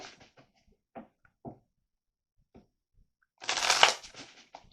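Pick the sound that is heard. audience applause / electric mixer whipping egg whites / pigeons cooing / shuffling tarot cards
shuffling tarot cards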